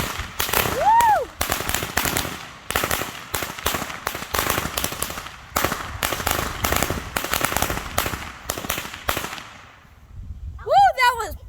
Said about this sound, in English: Okay, we're about to do another firecracker.